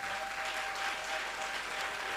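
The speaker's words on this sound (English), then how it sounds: "Please give him a round of applause." An audience applauds the mayor of St Ann, Councillor Michael Belnavis, at a public event in Jamaica, a steady faint wash of clapping that runs evenly through the whole stretch with no voices over it.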